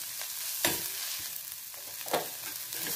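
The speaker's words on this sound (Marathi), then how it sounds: "कोथिंबीर आणि मेथी 2 मिनिट तेलात छान भाजून घ्यायचं" Coriander and fenugreek leaves fry in hot oil, giving a continuous bright sizzle with a couple of sharper crackling bursts as they are stirred.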